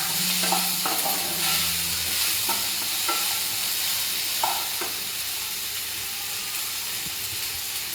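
Onion frying in a pan for a Gujarati potato and shing bhajiya dish, a steady broadband sizzle with intermittent stirring scrapes and clicks throughout, close and continuous, no voices.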